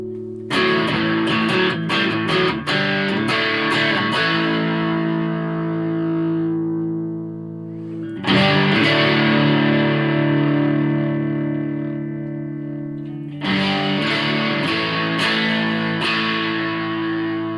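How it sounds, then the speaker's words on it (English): Electric guitar chords played through an MXR FOD distortion pedal, three sustained strummed chords ringing out with long decays, loud and close, no talking. "So distortion pedal in."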